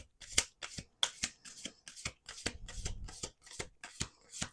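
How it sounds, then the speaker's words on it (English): Oracle cards being shuffled up close, a quick rhythmic series of crisp riffling slaps and flicks, soft overall with no talking. "I shuffled them like that"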